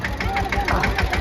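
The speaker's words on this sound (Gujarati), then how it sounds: "અહીંયા પણ જો એક ટ્રેક્ટર આવી રહ્યું છે." A tractor approaches near food-serving domes at a Ramkatha religious gathering in Palitana, its engine giving a steady, knocking low-end throb with rhythmic pulses under crowd chatter and voices.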